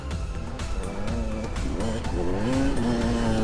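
A 250 motocross bike ridden hard off-road on an enduro track, its engine loud and near, revving with a rising and falling buzzing whine through the whole short burst.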